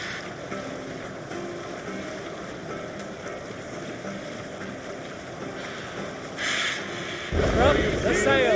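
A Viking longship sails the sea in Assassin's Creed Valhalla, with a steady wash of waves and creaking. Voices sound faintly, and a louder rush of splashing water swells near the end.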